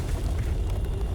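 Grenade blast in the military shooter game Conflict: Global Storm, a loud, heavy low rumble that fills the whole brief moment without any clear onset or fade.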